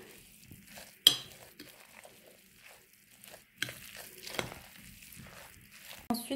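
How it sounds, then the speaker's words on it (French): Two beaten eggs are mixed into a chicken filling, with quiet stirring and a few sharp clinks and scrapes of a utensil against the bowl, separated by near-silent pauses. "j'ai cassé et que ensuite je mélange bien le tout"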